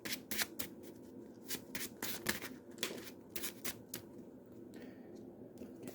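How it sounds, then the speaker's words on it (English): Playing cards for the Marvel Champions card game being shuffled back into a deck, a run of quick, soft riffling bursts close up and fairly quiet. "And I will shuffle them back into my deck."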